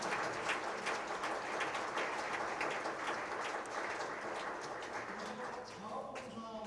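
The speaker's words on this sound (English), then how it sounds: "Please give them a big round of applause." Audience applause for staff and young officers at a defense conference plenary session: dense, steady clapping from a large hall crowd that holds level throughout and thins slightly near the end.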